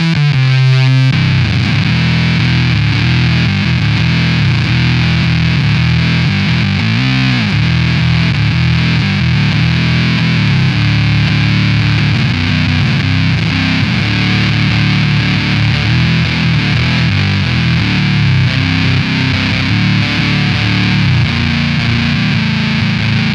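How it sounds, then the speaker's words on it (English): Electric guitar through a Mastro Valvola OFF1 octave fuzz with the sub-octave engaged and octave-up off, a thick, heavily distorted low tone sustaining loudly and steadily without talk. "Now let's go ahead and kick on that sub octave."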